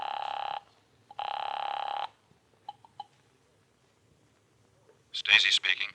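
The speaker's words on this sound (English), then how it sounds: "I knew I'd have to move quickly, so I found a phone and called Jack Stacy." Radio drama telephone ringing effect: two long, loud electronic ring bursts close up, followed by a few faint clicks and then a voice.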